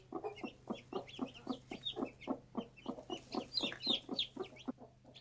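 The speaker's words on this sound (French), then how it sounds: "Quelques petits cris aigus annoncent enfin la sortie des poussins" Newly hatched chicks peep in quick, high, repeated bursts beneath a brooding hen, a dense close chorus of sharp cries over a low steady hum.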